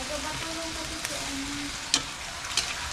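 Aromatics are sautéed in a pan for tinola, giving a steady, moderately quiet sizzle with a couple of sharp clinks or scrapes from stirring and faint background sounds.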